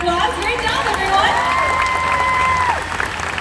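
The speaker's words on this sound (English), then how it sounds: "Why don't we give our volunteers another big round of applause?" Audience at a SeaWorld animal show applauds and cheers for volunteers; steady crowd clapping fills the whole stretch, mixed with whistles and shouts while a voice talks over it.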